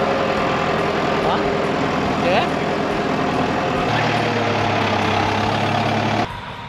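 Tractor engine idles and runs steadily close by on a farm during weekend work, a continuous low rumble that shifts to a steadier drone before cutting back near the end, with a voice speaking briefly over it.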